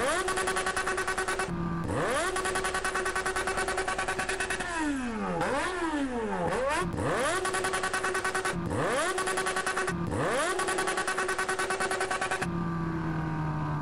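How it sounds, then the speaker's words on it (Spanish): BMW S1000RR motorcycle engine in GTA San Andreas, loud and close, revving repeatedly with rising whines, quick dips and sweeping pitch swoops before settling into a lower idle at the end. "Hoy vengo con mi moto BMW S1000RR."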